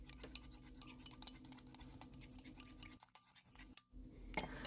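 A metal spoon stirs distilled water into a homemade gel essence in a small container, giving scattered light clinks and scraping ticks at close range, alone without talk, with a brief lull near the end.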